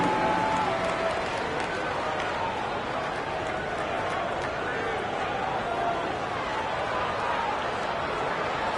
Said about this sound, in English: Give a big round of applause for young Clippers Spirit Nasty.